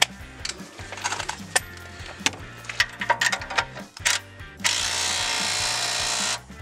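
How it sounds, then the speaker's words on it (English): An impact wrench tightens the CV axle nut on a Toyota Tacoma front axle: bursts of clicking and rattling tool noise, then one sustained loud buzzing run of a few seconds that stops abruptly. "I have an impact wrench in this case."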